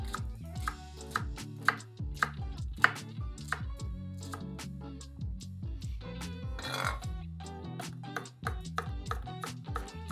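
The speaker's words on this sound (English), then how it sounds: "Basically, we just want to chop all of this up." A knife chopping leeks on a board makes a run of quick, uneven thuds, close and fairly quiet, with ringing tonal sounds in the background and no talking.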